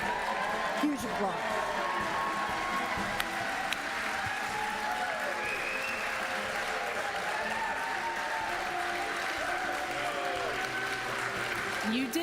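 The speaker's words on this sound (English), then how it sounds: "Huge applause." Huge applause from a standing crowd at a live political event in Pennsylvania as Donald J. Trump enters, a steady sustained roar of clapping beneath a commentator's voice throughout.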